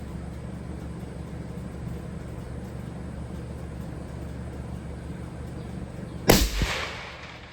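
A single sharp, loud rifle shot fired at a bullseye target cracks out near the end and rings off with a short echo, after a stretch of quiet outdoor wind.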